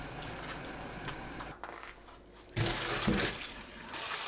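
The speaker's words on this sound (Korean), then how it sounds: "찬물에 두세 번 헹궈주세요." Blanched prickly castor-oil tree shoots being rinsed in cold water, with a steady wash of splashing and running water that drops out briefly, then returns louder and closer.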